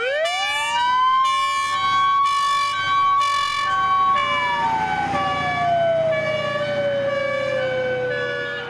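A fire engine siren wails loud and close, holding a long steady tone and then sliding slowly downward, with brief pulsing blasts near the start.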